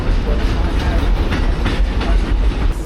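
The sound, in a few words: long passenger train cars moving to connect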